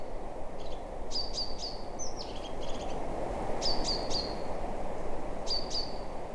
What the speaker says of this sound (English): intense kind of like a very fast bubbling kind of slightly lasery sound, which is A crested tit